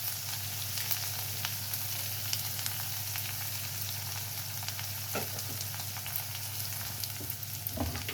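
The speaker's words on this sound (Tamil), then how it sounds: "இப்போ இது வெங்காயம் நல்லா வதங்கட்டும் கருவேப்பிலை நல்லா வதங்கணுங்க" Onions and curry leaves sauté in oil in a home kitchen pan, a steady close sizzle with a low hum underneath and occasional soft stirring clicks, with no talking.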